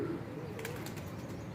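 A pigeon arrives to perch on a rooftop, giving a soft low coo with faint wing movement against quiet outdoor background noise.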